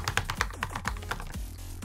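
Typing on the butterfly keyboard of a 2016 MacBook Pro 15 with Touch Bar, a shallow 0.5 mm travel clicky design. Rapid, close, crisp keystrokes tap in an uneven rhythm and stand alone without speech.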